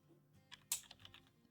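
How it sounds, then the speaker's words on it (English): A few quick, faint clicks of typing on a computer keyboard while entering a name into a spreadsheet cell, with one sharper keystroke in the middle. "we want to type the name Stelios in cell D5, we click cell D5 and start typing"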